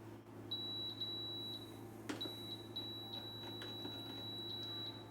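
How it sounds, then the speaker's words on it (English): A kitchen appliance or toy nicknamed R2-D2 emits a series of sharp, high electronic beeps, some short and one long sustained tone, over a low steady hum in a kitchen. "let's get R2D2 beeping"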